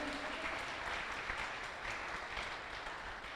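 A church congregation claps during a sermon, a steady wash of applause heard faintly and somewhat distant.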